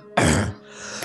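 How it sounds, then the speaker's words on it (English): One harsh cough bursts out close to the microphone, loud and rough, then fades into a quiet room. "you've got a bloody cough and half"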